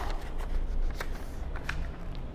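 Square origami paper folded and pressed flat by hand, a few soft crisp crinkles and scraping swipes close by, repeated in short strokes over low background noise.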